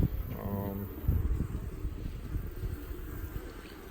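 Honey bees hum from an opened hive in a low, continuous buzz close by, partly masked by someone talking over it.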